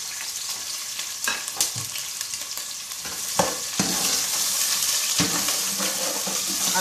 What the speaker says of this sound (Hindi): अब ये प्याज को उस वक्त तक फ्राई करना है जब तक ये ब्राउन ना हो जाए